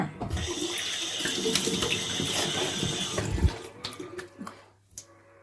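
Tap water runs steadily into a sink for face washing, a close hissing stream with splashes and a thump before it is turned off and a few drips and knocks follow.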